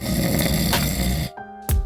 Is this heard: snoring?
yes